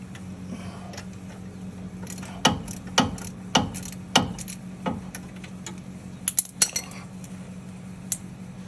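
Ratchet socket wrench working a wheel bearing bolt on a 2017 Subaru Crosstrek during front wheel bearing replacement, giving several short, sharp clicking bursts spaced about a second apart over a low steady hum, followed by scattered lighter metallic clinks.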